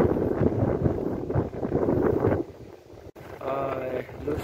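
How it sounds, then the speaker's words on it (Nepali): Strong wind sweeps across Lusail beach in Qatar, buffeting the microphone with a gusty rumble that eases briefly before a voice is heard near the end. "लुसेल बीच साइड हावा पनि एकदम मजाले चलिरहेछ।"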